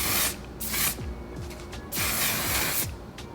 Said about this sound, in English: To set the face, I use the One Size Until Dawn setting spray